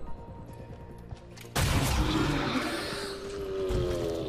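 Splash shot gunfire in the video game XCOM Chimera Squad: a quiet lead-in of game ambience, then a sudden loud burst of gunfire and explosive rumble that decays into a rolling, noisy tail with faint chatter.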